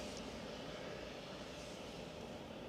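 Airliner engines, GE90 turbofans, rumble at an airport with a steady broadband roar and a faint high whine, heard from a distance.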